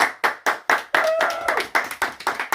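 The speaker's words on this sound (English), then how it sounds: "Give them a round of applause," Distinct hand claps at a chess tournament prize presentation, a dozen or so sharp separate claps from a small group, close and fairly loud, with a brief cheer mixed in midway.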